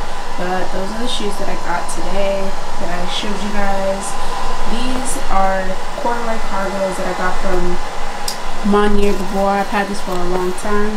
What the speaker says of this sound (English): Sorry for the noise from the dryer